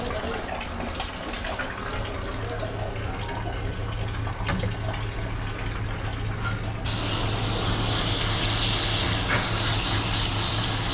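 Water spray hitting and rinsing a dirty coil inside an LG Multi V air handler, a steady dense hiss that grows brighter and louder partway through, with a low hum underneath.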